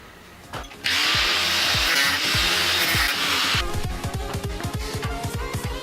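A power saw cuts a metal part for a car chassis build, starting abruptly with a loud, steady high whine that runs about three seconds, then gives way to rapid rhythmic clattering and knocking at close range.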